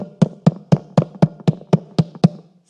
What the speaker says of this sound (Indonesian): Waktu saudara tepuk tangan.